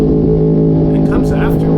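A Ducati V4S motorcycle on the Angeles Crest highway revs hard and accelerates past another bike and a car, its loud, steady engine drone close and continuous, mixed with wind rush.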